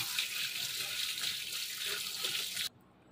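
Tap water runs steadily into a kitchen sink as it is rinsed after cleaning with Harpic, a close hissing splash that cuts off abruptly near the end, with faint talk underneath.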